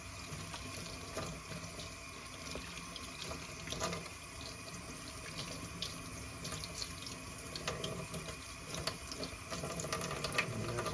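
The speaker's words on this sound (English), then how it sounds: "And give it a rinse." A tap runs steadily into a sink while model car parts are rinsed, giving a continuous close splashing water sound with small fluctuations throughout.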